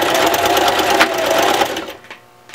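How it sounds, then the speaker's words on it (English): A sewing machine runs a fast, continuous zigzag stitch down the side corners of a baby bib-apron, loud and close, then stops abruptly near the end. "we're going to take the zigzag down"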